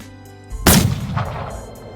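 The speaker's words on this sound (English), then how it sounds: "it sounds like gunshots or something" A single loud gunshot-like blast in the video game Seduce Me Otome, with a sharp attack and a rumbling decay, followed by fainter echoes of game action.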